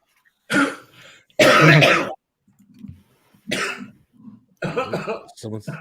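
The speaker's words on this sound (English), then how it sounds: "Someone's coughing their guts up." Several loud, hacking coughs in separate bursts, close by, with short pauses and low murmuring between them.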